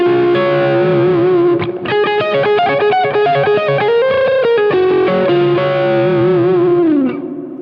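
Distorted electric guitar with effects and chorus playing a fast, flowing solo lick, with quick runs, bends and sustained notes, loud and close with no talk.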